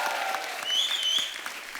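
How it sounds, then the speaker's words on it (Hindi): A studio audience at a TV comedy talk show applauds for an actress. The clapping is brief and steady, with a thin high tone sounding over it. "आप सब एक बार आलिया के लिए जोरदार तालियां"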